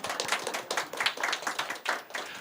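A church congregation at a Sunday worship service claps together in a quick, lively burst of separate hand claps, close and fairly even in rhythm, with no speech over it.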